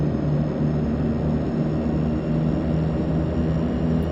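A DHC-6-300 Twin Otter taxiing in a flight simulator game: a loud, steady propeller-engine drone with a constant low hum, continuous throughout with no voices.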